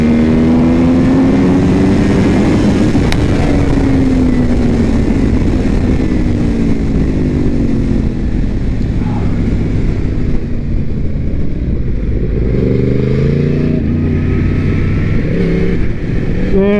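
A Yamaha R1 sport motorcycle screams around The Ridge Motorsports race track. The engine is loud and close, rising and falling in pitch with shifting and throttle changes, and roars without pause throughout.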